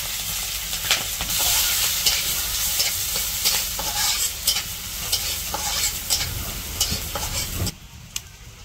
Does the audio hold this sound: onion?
yes